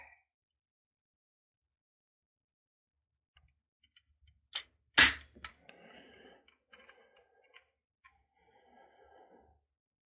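An AK rifle fitted with an enhanced Fime Group fire control group gives a sharp trigger break during a pull-weight test, one loud crisp snap followed by a few faint mechanical clicks and handling rustle in a quiet room.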